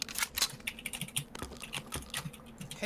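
Rapid, uneven clacking of a mechanical keyboard with black switches, close and fairly loud, with keystrokes arriving in quick bursts and no one talking.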